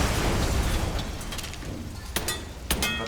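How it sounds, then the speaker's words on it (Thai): A car blows up in the Mafia 3 video game: a loud, rumbling blast of broadband noise opens, then fades. Two sharp cracking bursts follow near the end. "โอเคทีนี้ก็ระเบิดรถในที่แห่งนี้ซะ"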